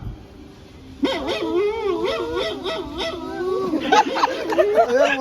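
A man imitates a dog with a run of barks, yips and whimpering sounds in his own voice, loud and close, continuing for several seconds.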